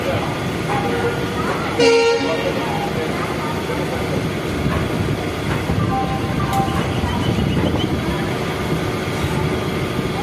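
A passenger train's horn toots briefly over the steady rumble of the train arriving at a station, with voices talking in the background throughout.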